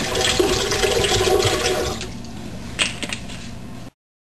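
Water pours and splashes steadily for about two seconds, then thins to a light trickle with a couple of brief clinks before stopping.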